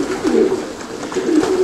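Young racing pigeons feeding hungrily from a food bowl after a training flight give soft, close, rolling coos in two short bursts over a muffled background.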